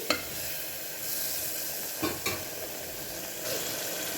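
A spoon stirs and scrapes through egg curry in a hot pan, with a steady frying sizzle and a few sharper scrapes.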